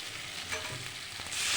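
Egg curry masala fries and is stirred in a pan, a steady close sizzle with soft scraping strokes that swells louder near the end, with no talking.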